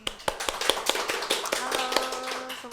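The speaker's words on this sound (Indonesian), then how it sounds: "Tepuk tangan dulu dong" Scattered hand claps from a small audience at a hospital eye-health talk, uneven and fairly close, mixed with voices talking over them.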